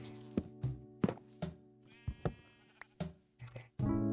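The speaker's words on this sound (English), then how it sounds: "I cannot have these goats jumping out of their pen." Goats bleating in the farming video game Sunlit Valley, a run of short, close, repeated calls spaced through the moment, mixed with soft knocking thuds and a louder sustained call near the end.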